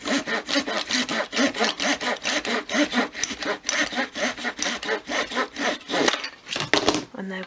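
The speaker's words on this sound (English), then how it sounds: "So just hold it firmly into place as you saw." A hand saw rasps back and forth through wood in a fast, steady rhythm of strokes, close up, with no talking.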